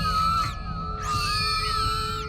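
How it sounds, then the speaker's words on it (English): Siren screech from the film The Lighthouse, a piercing wavering shriek that breaks off briefly and then returns, loud and sustained over a low rumbling bed. "The most memorable ones are the siren screech"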